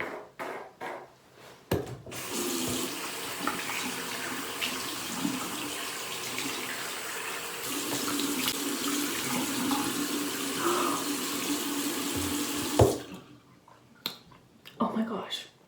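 Water runs from a tap for about eleven seconds in one steady, close rush while a face is rinsed, with brief clicks and taps before and after.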